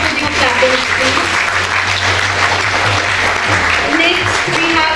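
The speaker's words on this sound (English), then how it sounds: "Audience, I request to stop with your clapping, please." Steady, dense applause from a large audience fills an award ceremony hall, a continuous wash of clapping with faint voices mixed underneath.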